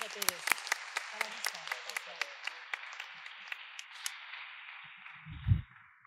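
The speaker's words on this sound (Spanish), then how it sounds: "un nuevo aplauso para ella." Scattered clapping from a small conference audience at a library congress session, a thin, distinct patter of individual claps that fades toward the end, followed by a brief low thump.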